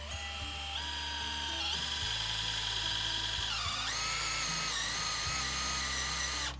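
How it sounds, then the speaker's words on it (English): A power drill bores holes for a candle holder, whining steadily and changing pitch as it speeds up and bites into the workpiece, close and continuous for several seconds. "So we just need to drill these other ones."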